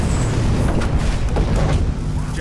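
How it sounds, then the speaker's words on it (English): An explosion tears through a house, a loud, dense rumbling roar that holds steady for a couple of seconds with crackling debris over it and no voices. "an explosion tears through the property"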